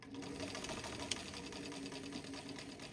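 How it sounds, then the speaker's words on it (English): A black Singer sewing machine running steadily, a fast, even mechanical whir and rhythmic needle chatter close by and without pause, with no voices. "this Black Singer sewing machine that you see me using"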